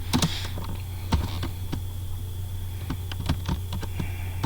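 Keystrokes on a computer keyboard as a name is typed into a web form, a run of separate clicks in uneven bursts over a steady low hum, close and moderately loud with no talking.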